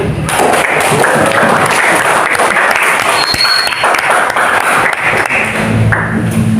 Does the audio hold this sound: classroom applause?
yes